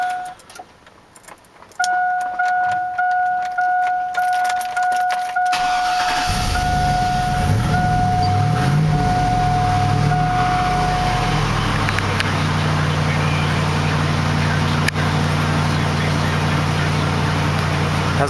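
A Chevrolet Silverado pickup with a bad fuel pump and 198,000 miles starts at idle, with keys rattling and cranking first. Then the engine catches into a loud, steady rumble that rises as it is given gas.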